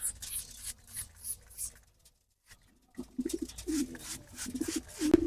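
A pair of pigeons coo at close range. Soft rustling and fluttering come first, then a brief near-silence, then low, rolling coos that repeat several times to the end.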